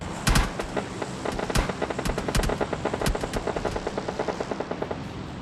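Gunfire in the battle-royale video game PUBG Lite: rapid bursts of sharp automatic shots with a few louder single cracks, dense and close, over a continuous rumbling game background.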